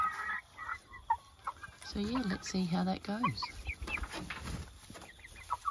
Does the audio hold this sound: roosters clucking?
yes